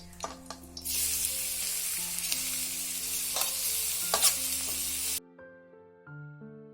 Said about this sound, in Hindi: तो जल्दी से मैं बच्चों के लिए पास्ता फ्राई कर दूंगी